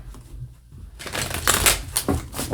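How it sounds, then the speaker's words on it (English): Quick papery riffling and flicking of tarot cards being shuffled in repeated bursts, close by, after a brief quieter lead-in with no talking. "Let's give this a bit of a shuffle."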